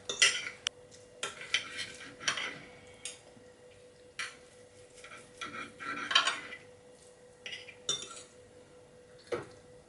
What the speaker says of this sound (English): I do it on a plate just because it's easier for me to do it with a knife and fork